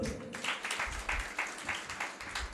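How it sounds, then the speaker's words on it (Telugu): Applause ripples through a Christian wedding ceremony in Hyderabad: a moderate crowd claps in steady, rhythmic bursts for a few seconds, with no one speaking over it. "చప్పట్లు కొట్టండి."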